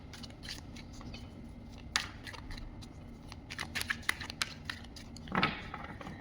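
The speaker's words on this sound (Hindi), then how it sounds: "इनको शफल करके एक जगह रख लेते हैं" Tarot cards being shuffled by hand, soft irregular riffles and flicks of card stock close by, with a few sharper snaps and taps scattered through a quiet room.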